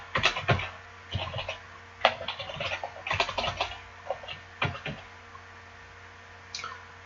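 Computer keyboard typing while a Perl script is written, irregular bursts of clicky keystrokes with short pauses, close and fairly quiet, no talking.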